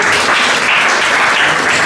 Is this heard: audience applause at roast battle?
yes